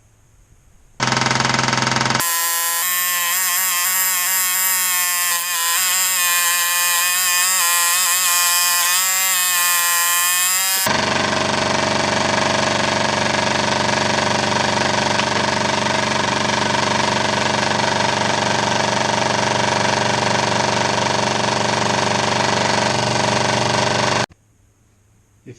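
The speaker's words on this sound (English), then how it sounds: "then I'll cut them out on the scroll saw." A scroll saw cuts wooden spoons out of a wooden blank with a loud, continuous buzzing whine. The pitch shifts partway through the cut, then the saw stops abruptly near the end.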